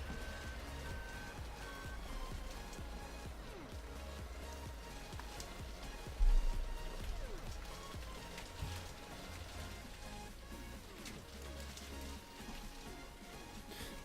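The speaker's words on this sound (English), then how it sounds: "Hailstones is back, so it might get a bit noisy again." Rain and hailstones in the Farming Simulator video game patter steadily over a continuous wash of noise, with one sharp thump partway through. No one speaks.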